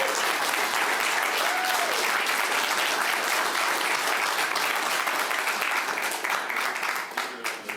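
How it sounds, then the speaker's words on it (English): An audience at a mayoral campaign event applauds steadily for several seconds, a dense wash of clapping that tapers slightly at the end. "There always needs to be room for applause break after questions"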